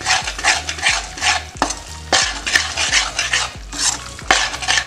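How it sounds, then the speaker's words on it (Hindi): Flour roasting in ghee over a low flame for Punjabi panjiri. A spoon scrapes and stirs in a rhythmic pattern of loud, close strokes with knocks against the pan over a soft sizzle, and nobody speaks. "इसको लो फ्लेम के ऊपर हमने भूनना है।"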